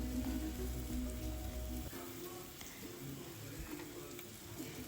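Cabbage with cumin powder and pepper powder being stirred and fried in a pan for veg momos, a steady, fairly quiet hiss of sizzling over a low hum, with soft stirring scrapes throughout.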